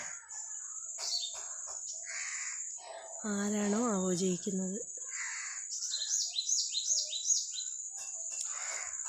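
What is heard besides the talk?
small birds chirping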